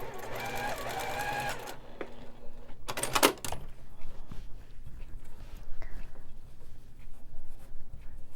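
A sewing machine stitches scraps of quilt fabric onto a log cabin block around a red square, running in a short motorized burst at the start before a brief clatter and quiet handling noises.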